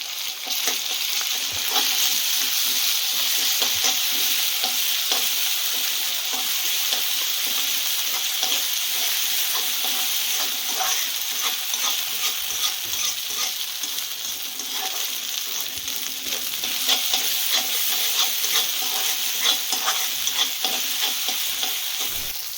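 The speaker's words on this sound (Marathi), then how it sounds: "कांदा आपला चांगला फ्राय झालेला आहे." Onions fry in a pan for goat liver fry, a constant loud sizzle and hiss layered with light crackles and frequent stirring scrapes throughout.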